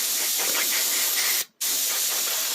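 Aerosol brake cleaner sprays in a loud, steady hiss while reviving an old J C Penney push mower, with one brief break near the middle before the spray resumes and continues to the end.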